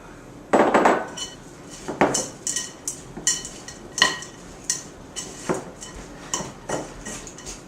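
A spoon works chocolate chips and chopped walnuts into cookie dough in a bowl, making close, repeated scrapes and clinks in an uneven stirring rhythm with no talking.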